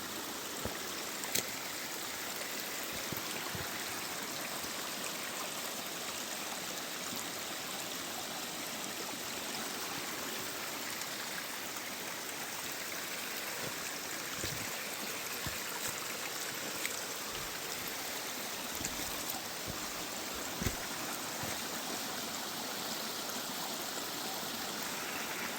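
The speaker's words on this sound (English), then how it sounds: "Just about to cross a feeder creek. It's got a nice flow to it." A feeder creek in rainforest flows steadily with a constant broadband rush and gurgle, moderately close, unbroken and without voices throughout.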